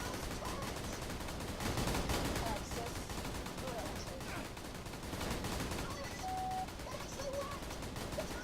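Rapid, continuous automatic gunfire from the video game Borderlands 2 rattles densely for the whole stretch, with people talking faintly beneath the shots.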